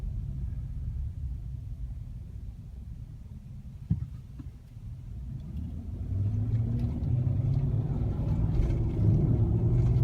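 2016 Chevrolet Silverado with the 5.3 V8 and a K&N cold air intake, heard from inside the cab as a low steady rumble that swells louder around the midpoint as the truck accelerates onto a freeway.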